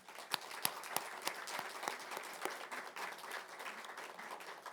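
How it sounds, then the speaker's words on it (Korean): Church congregation clapping in welcome during a Sunday worship service, a crowd of hands beating with a few sharp, distinct claps standing out near the front, sustained for several seconds in a reverberant hall. "우리 잠깐만 박수로 우리 환영하겠습니다."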